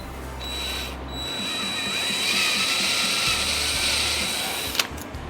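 Drill boring into the top of a wooden knife rack clamped in a vise, a steady whirring grind that runs continuously for several seconds before a brief clack near the end.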